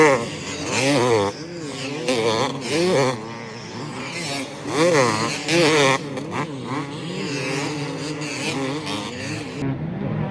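Two-stroke 250 to 500cc motocross bikes race an open pro moto at Glen Helen, engines shrilling and rising as they rev, then falling off in repeated waves, close and loud, with overlapping machines.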